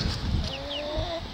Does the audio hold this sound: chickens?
yes